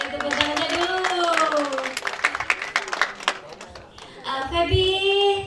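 Audience applause at a film gala premiere, rapid scattered clapping from a crowd heard under and between a loud amplified voice speaking.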